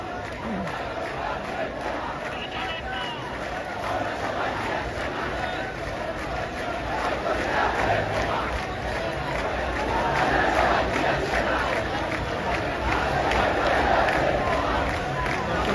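Protesters at a street rally and human chain in front of Matsya Bhaban, Dhaka, chant slogans in a dense, steady crowd roar that rises slightly toward the end, with overlapping voices throughout.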